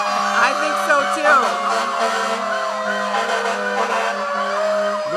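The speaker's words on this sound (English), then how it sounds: "I think we're kind of being drowned out by these sirens here." Emergency vehicle sirens wailing loud and close during an Independence Day parade, several overlapping rising and falling tones with a steady drone, while people talk underneath.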